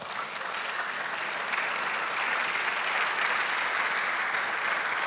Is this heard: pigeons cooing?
no